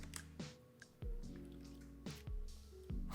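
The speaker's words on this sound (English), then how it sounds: "So we're gonna put some of these oils in those cups." Oil is poured into cups of water in a kitchen demonstration, giving a handful of soft, close plops and drips with gurgling trails spaced irregularly over a few seconds, quiet and without talk.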